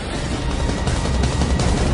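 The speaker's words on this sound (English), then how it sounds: "It must have been an explosion." A loud, sustained blast of explosion-like rumble and crackle fills the whole moment, dense and close with no talk.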